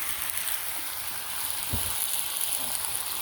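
Panch phoron and garam masala sizzle loudly in hot oil, a steady, crackling hiss that barely changes, with a brief stirring knock partway through.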